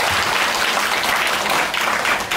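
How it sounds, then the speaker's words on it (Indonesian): An audience claps together at an anti-corruption gathering of the regional religious affairs office in Tabanan, a brief, thick burst of applause holding at an even level throughout. "Tepuk tangan."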